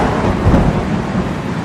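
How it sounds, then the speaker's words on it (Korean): A stormy sea raised by a god, rendered as a loud, continuous storm effect with deep rumbling thunder and a dense wash of rain, close and sustained with no voices. "포세이돈이 일으킨 폭풍으로 인해 괴물 같은 파도가 솟구쳤고"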